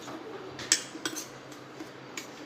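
A spoon mixing powdered sugar and spice masala in a bowl for raw mango mukhvas, a few light metallic clinks and taps scattered over a quiet background, close and soft.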